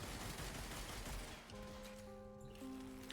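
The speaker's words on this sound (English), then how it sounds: "I love that it turns into little fireworks for the Panthera." In the Warframe video game, the Panthera weapon fires with a fireworks effect: dense crackling bursts of gunfire, then a few ringing, sustained tones as the shots fade.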